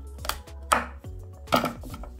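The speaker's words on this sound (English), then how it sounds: "Move the top of the carrot and just cut this in two" A knife chops through a carrot on a cutting board, two sharp distinct cuts with lighter knocks between them, close and clear with no talking.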